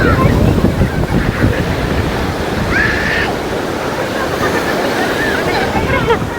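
Rushing water pours steadily and loudly at a farm outing, a continuous broadband roar with wind buffeting the microphone, while a voice speaks over it.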